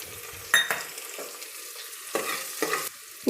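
Sliced onions with curry leaves and bay leaf fry in a pan for tomato bath, a steady sizzle broken by several louder scraping stirs of a spoon.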